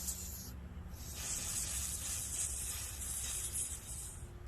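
Carb cleaner sprayed onto a small two-stroke carburetor from a weed eater, a continuous close aerosol hiss lasting several seconds with slight sputtering variation, no talking.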